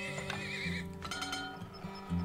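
A horse whinnies over a steady soundtrack of the game Turmoil, with a few hoof clops mixed in; a short, clear neigh near the middle.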